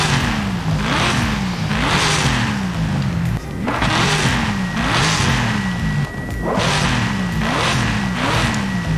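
A supercharged car engine in the racing game Forza Horizon 5 revs repeatedly, loud and close, climbing through gears in rhythmic surges with a supercharger whine, dipping briefly at each shift before pulling hard again.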